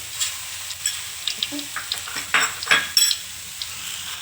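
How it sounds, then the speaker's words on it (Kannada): Mustard seeds popping in hot oil on a high flame, scattered crackles and small pops that thicken toward the middle, with faint pan clinks between them. "ಸಾಸಿವೆ ಚಟಪಟ ಅಂತ ಸಿಡಿಯಾಕವ್ರಿ"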